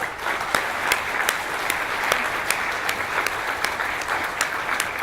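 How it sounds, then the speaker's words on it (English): Conference audience at ARA 2019 applauding a guest speaker, a sustained round of clapping with distinct sharp individual claps standing out at a quick, irregular rhythm over the crowd's steady patter. "I'd like to ask you to give him a round of applause for what he has shared with us"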